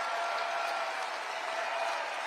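A live show audience applauds and cheers steadily, a dense, even wash of clapping and crowd noise at moderate level with no break, no single voice standing out above it.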